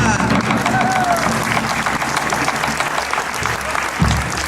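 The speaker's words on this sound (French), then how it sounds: "Deuxième, on peut les applaudir encore." Crowd applause at a troubadour tournament in Gruyères, steady loud clapping from a large outdoor audience throughout, with crowd murmur mixed in.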